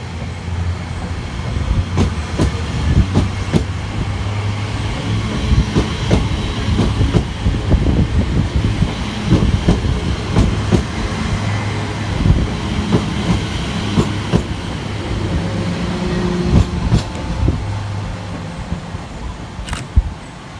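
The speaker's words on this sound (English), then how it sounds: "ECS heading into Gidea Park carriage sidings" Empty coaching stock train 345051, an Elizabeth Line unit on the Great Eastern Main Line, rolls into the Gidea Park carriage sidings with a continuous low rumble and a steady clickety-clack of wheels over rail joints.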